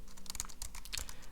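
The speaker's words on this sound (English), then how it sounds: "it's a very fine keyboard if you are somewhere and you don't really have time to take out your big keyboard" Rapid typing on a compact computer keyboard, close and crisp, a quick uneven run of light key clicks with no voice over them.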